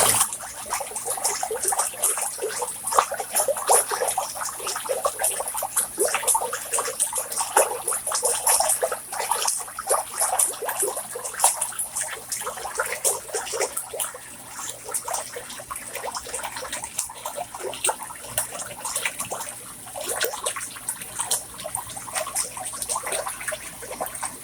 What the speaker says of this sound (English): let me pour on this pool pump